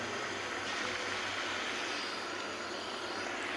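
A pot of Kerala-style sea fish curry boils with a steady, soft rushing bubble, an even hiss-like wash of sound that carries on without a break.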